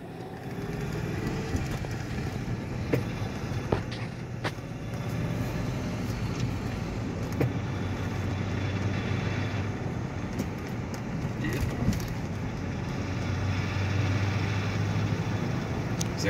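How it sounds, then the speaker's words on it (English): A 2011 Ford Crown Victoria LX with a five-speed manual swap cruises around town in third gear, a steady low engine drone and road rumble inside the cabin with occasional clicks and thumps, no talking. "I can drive around town in third gear."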